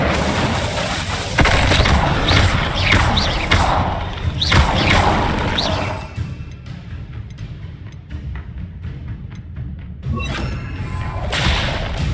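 Incendio fire spell cast in Hogwarts Legacy, a few loud whooshing bursts and thumps in quick succession, then a quieter stretch and another swell of game effects, with no talking.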